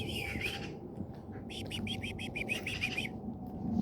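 Small birds chirp in a repeated run of short tweets partway through, outdoors by an old graveyard ruin, over steady low background noise with some talk.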